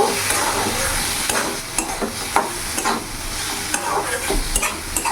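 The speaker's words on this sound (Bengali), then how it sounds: "আলুটা দিয়ে ভালো করে কিছুক্ষণ আমি নাড়াচাড়া করে নেব" Fried potatoes being stirred into a spice masala in a pan for an egg curry, a continuous sizzle with frequent scraping and clinking strokes of the spatula, loud and close, no speech.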